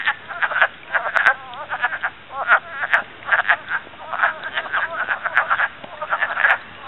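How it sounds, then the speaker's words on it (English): Wood frogs call in a dense chorus of hundreds, their clucking, duck-like croaks overlapping continuously and loud. "Wood frogs. Hundreds and hundreds of wood frogs."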